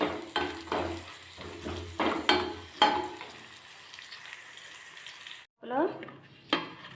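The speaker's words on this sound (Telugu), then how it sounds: "బాగా వేయించుకోవాలి." Tempering of chillies, garlic cloves, curry leaves and seeds fries in a pan as a spatula scrapes and clatters repeatedly over a sizzle. The scraping then stops and the frying continues more quietly.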